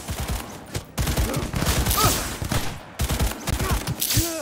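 Skippy, a smart gun in a video game, fires in several loud, clustered volleys of rapid shots separated by brief pauses, with a faint tonal, voice-like chirp mixed into the bursts.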